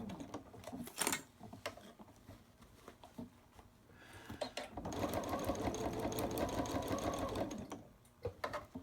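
A home sewing machine stitches through fabric: a brief buzzing burst comes first, then a steady, close, rapid mechanical whir runs for several seconds before stopping.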